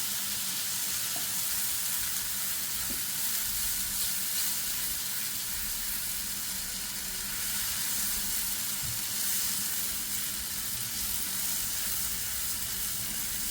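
Garlic chutney roasting in a pan over low heat for dabeli masala, a dense continuous sizzle heard close and steady throughout, with faint stirring and no talking.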